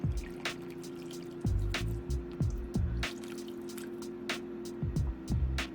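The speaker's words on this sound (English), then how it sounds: "Now I'm going to add my water." Water is poured into a candy apple mix, giving close, soft dripping and splashing with small irregular plops over a low steady hum.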